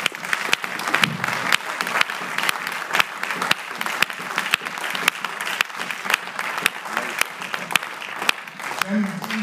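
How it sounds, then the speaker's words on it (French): A church congregation claps and cheers together in steady, dense applause that goes on throughout, with a voice speaking over the crowd. "Est-ce qu'on peut acclamer réellement?"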